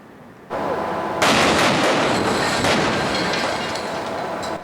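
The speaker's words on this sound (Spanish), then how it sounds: "esta explosión daba comienzo a la construcción del cruce de la Cordillera Central" Blasting explosion that starts construction of a tunnel crossing through the Cordillera Central mountains, heard as a sudden loud, broad roar followed by a heavy rumbling blast and sustained crackling debris lasting several seconds.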